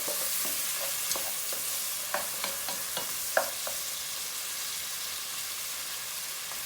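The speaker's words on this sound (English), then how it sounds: "While the onion's sweating away" Onion sweating in a pan for okra chicken curry, a soft steady sizzle with scattered light stirring taps, fairly quiet.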